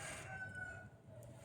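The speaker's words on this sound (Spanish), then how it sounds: "espero que sea una gallina de verdad la que esté cantando" Faint distant rooster crow at night in rural Paraguay, one drawn-out call fading over quiet background hiss.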